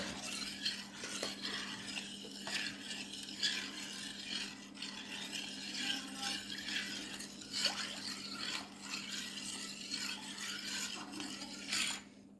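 Steady scraping and rubbing of a spoon stirring milk into a Sicilian-style tiramisu mixture in a bowl, continuous and fairly close, with a faint constant hum underneath and no talking.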